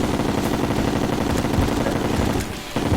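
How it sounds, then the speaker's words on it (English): Rapid automatic gunfire from a ranger's gun in Terraria, a loud, steady stream of closely spaced shots that briefly drops out near the end before resuming. "this gun is way too loud for this game"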